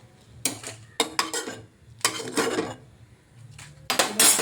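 Peanuts tossed and stirred in a kadai after chillies, with metal clinks and scraping bursts of a ladle against the pan at irregular intervals, close and fairly loud, no talking.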